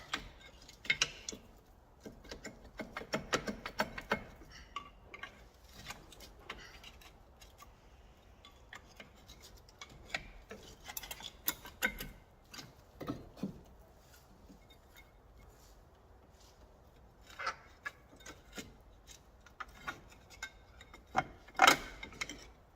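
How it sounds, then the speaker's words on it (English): Bolts on the brake caliper holder of an Alfa Romeo 145 Cloverleaf being undone, heard as sparse, faint ratcheting ticks and metallic clicks in short bursts with quiet gaps between. "I'm just undoing one of the bolts and loosening another one off so I can then get the disc out and get the new one in"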